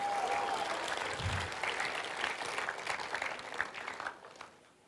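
Church congregation applauding together during a sermon, a steady dense patter of many hands that holds fairly even before fading out toward the end.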